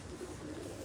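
A female pigeon sitting on a rooftop loft gives a soft, low, continuous coo, faint against steady background noise.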